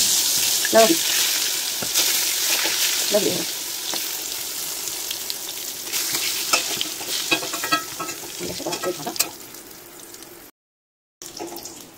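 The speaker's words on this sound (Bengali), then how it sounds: "বেগুন যদি একটু বেশি তেলে ভাজা যায়" Eggplant sizzles and crackles as it fries in hot oil, with scraping stirs and intermittent talk over the frying before it briefly cuts to silence.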